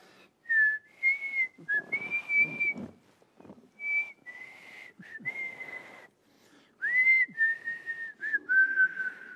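A person whistles a melodic tune in a series of clear, bright phrases with short pauses between them, close and fairly loud, with soft rustling underneath.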